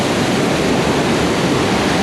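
The Rhine Falls waterfall in Switzerland roars close by, a dense, steady rush of crashing water with no break and no voices.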